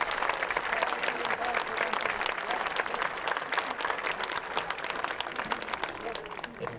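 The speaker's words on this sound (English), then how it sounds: "How about another round of applause for our 8th grade students?" Sustained applause from an audience at an 8th grade graduation ceremony for the Sussex-Wantage Regional School District, dense steady clapping filling the whole stretch at an even loudness with no pause.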